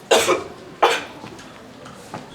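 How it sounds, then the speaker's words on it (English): Two sharp coughs close together near the start, followed by a fainter third cough a moment later, with no talking. "You cough very much, madam."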